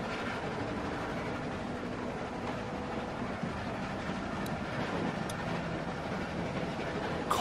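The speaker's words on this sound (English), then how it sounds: "Stop the train." A train runs steadily on rails in The Walking Dead video game, a continuous moderate rumble and rattle of carriages throughout.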